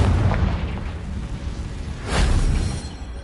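Confringo explosion spell in Hogwarts Legacy: a low rumbling ambience breaks into a single sharp, booming blast with a crackling burst, close and loud, fading into a rolling tail.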